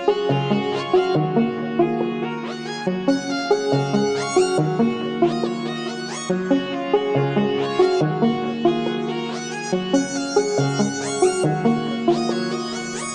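Hyperpop melody built from chopped vocal samples processed with Halftime and Valhalla effects, bright stuttering pitched vocal fragments in a bouncy repeating pattern with a washy, slowed feel, played continuously with no talking.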